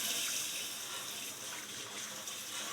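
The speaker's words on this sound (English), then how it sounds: "And rinse off of that." Water rinses caked dirt off an old horseshoe, a continuous splashing gush from start to finish with no voices.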